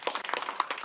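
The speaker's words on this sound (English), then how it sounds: "let's give a big round of applause to the production, to the judges, and the competitors" A small audience at a Chopped-style cooking competition claps briefly, a short burst of distinct close handclaps.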